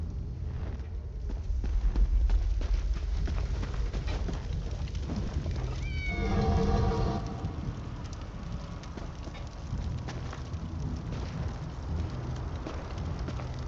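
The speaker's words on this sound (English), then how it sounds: "Pet the kitty." A cat meows in the video game Elder Scrolls Online, a short rising-and-falling cry that stands out over a constant rain-like ambient hiss and low rumble that runs the whole time.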